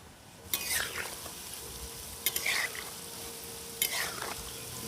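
Madan bhaja, a Bengali sweet, fries slowly in oil over low heat while a spatula stirs it, giving a soft constant hiss with three brief scraping bursts spaced a couple of seconds apart.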